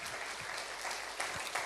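An indoor church congregation gives a lively applause, a continuous dense clatter of many hands at moderate distance, with a few louder low thumps in it and no speech.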